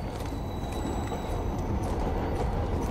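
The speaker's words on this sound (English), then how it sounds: "That is a loud train." Train rumbling past in the video game Call of Duty: Modern Warfare, a loud, steady low roar with continuous rattle filling the whole moment.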